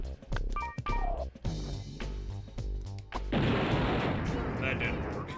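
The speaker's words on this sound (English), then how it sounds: "Or maybe I can throw a grenade from here." Grenade blasts in a video game: a sharp impact around the middle followed by a loud, sustained explosive rumble and crackle in the last two seconds, with game effects and dense noise before it.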